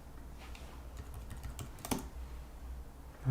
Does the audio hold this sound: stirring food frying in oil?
no